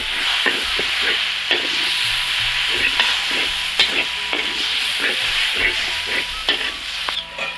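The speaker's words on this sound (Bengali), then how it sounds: "জিরে পাউডার লঙ্কা পাউডার পাউডার হলদি পাউডার দিয়ে নেড়ে দেব" Spoon stirring cumin, chili and turmeric powder in a frying pan for a green mango and taro leaf mash, repeated scraping strokes over a steady sizzle, close and continuous without speech.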